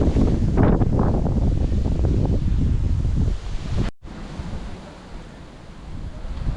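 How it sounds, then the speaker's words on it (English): Strong wind buffets the microphone outdoors beside a monument in the old part of Wroclaw, loud and roaring at first, then cutting out briefly before a steadier, softer gusting returns. "Certainly very windy."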